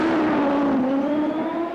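Paul Tracy's CART race car pulls away from the pits after a wheel change at the 2002 Vancouver street race, its engine note whining upward in a loud, sustained rising pitch with no talk over it.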